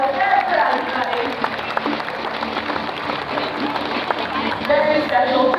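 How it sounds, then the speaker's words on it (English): Audience clapping at the Australia Zoo bird show, a broad, steady wash of applause from the crowd filling the whole stretch, with some voices mixed in. "Give them a big round of applause"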